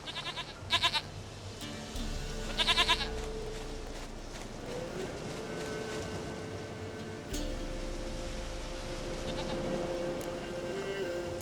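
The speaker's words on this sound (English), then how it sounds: "Goat of mine, dearest," Goats in The Witcher 3 give several short bleats in clustered bursts at about 1 and 3 seconds, set against a steady ambient game background, and then a faint voice speaks.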